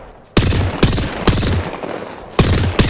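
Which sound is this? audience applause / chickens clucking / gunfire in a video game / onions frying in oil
gunfire in a video game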